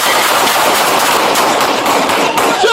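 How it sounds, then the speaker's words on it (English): Loud dense gunfire sound effect, a continuous crackling burst of rapid shots filling the whole stretch without pause. "Gunfire erupted."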